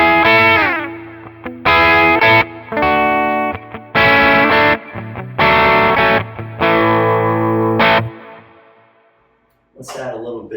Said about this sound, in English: the bridge pickup has a lot of high end to it. You'll hear that in all the tones